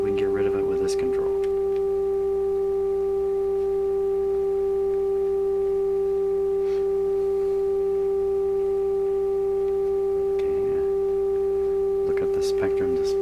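Steady sine wave test tone played through a Nordmende 3004C stereo receiver, a constant pure pitch with faint harmonics lasting throughout, broken only by a few brief clicks.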